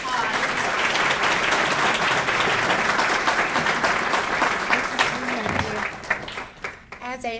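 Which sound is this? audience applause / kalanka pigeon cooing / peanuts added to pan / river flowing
audience applause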